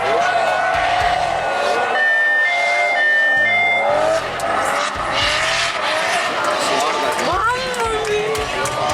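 A 500 HP Toyota Cresta drifts on a racetrack, its engine revving loud and close with rising and falling tones while the tires squeal in long, bright bursts.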